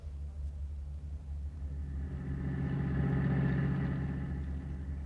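A car engine runs as a sound effect in a 1944 radio comedy drama, a low steady rumble that swells louder midway and then holds, with no speech over it.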